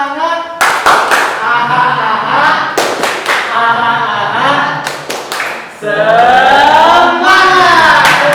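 Rhythmic group hand clapping from a gathering of people, several bursts of claps in a steady pattern mixed with voices calling out together, loud and close.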